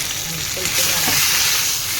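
Tomatoes salted in a pan for chutney fry with a steady, close sizzle while a spoon stirs and turns them.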